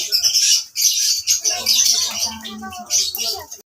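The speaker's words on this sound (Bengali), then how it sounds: "তোমরা তো বুঝতেই পারছো যে পেছনে পাখি আছে" Birds chirp and twitter high and busy in the background while a person talks over them.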